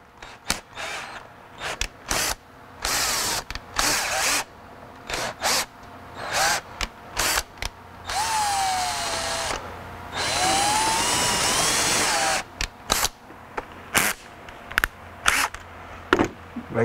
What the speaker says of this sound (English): you drill into the side of the bushing, and then you work the drill bit around the outside